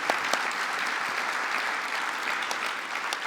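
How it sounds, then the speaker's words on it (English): An audience at an oath of office ceremony claps, dense and steady, for the whole stretch, with no voice rising above it. "I want to give them all a wonderful round of applause"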